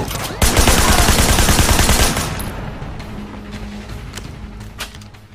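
Gunfire rattles in the Sleeping Dogs video game, a loud dense burst of rapid shots dominating the first two seconds, then fading into scattered distant reports and a final sharp shot near the end, with no speech.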